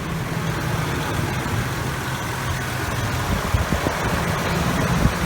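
A 4.2 liter V6 pickup truck engine idles steadily up close under the open hood, a smooth continuous low rumble with no knocks or irregular noises and no voices.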